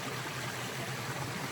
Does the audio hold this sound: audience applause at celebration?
no